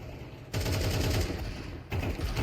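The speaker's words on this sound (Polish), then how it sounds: "Zobacz, obok gościa strzelam i gość głowę dostaje." Rapid automatic gunfire from a shooter video game, loud, dense and continuous bursts close up, briefly dipping before resuming with no talking.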